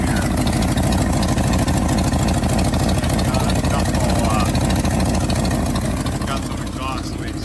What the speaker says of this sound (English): Got some exhaust leaks on it